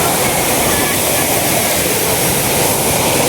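Kapildhar waterfall roaring close by, a loud continuous rushing wash of falling water that fills the whole stretch without pause.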